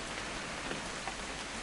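Steady rain falling in What Remains of Edith Finch, a dense, even hiss of drops on surfaces filling the whole moment without pause, moderately loud and alone.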